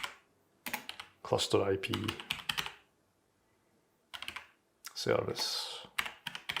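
Rapid clacking keystrokes on a computer keyboard come in two bursts with a silent gap between them, and someone talks over the typing.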